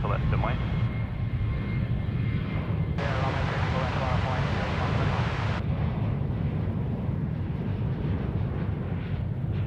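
A United airliner takes off at Sydney Airport, its engines a steady, loud, broadband roar that holds throughout, with radio voices talking faintly underneath.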